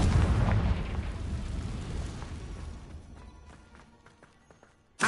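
A Confringo blasting curse from Hogwarts Legacy explodes with a loud boom that rolls off into a long, fading rumble, then another sharp burst hits at the very end.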